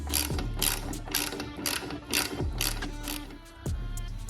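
A ratchet clicks rapidly while unscrewing the floorboard bolts on a 2019 Harley Street Glide CVO, close bursts of metallic pawl clicking in quick repeated strokes with brief pauses and no speech.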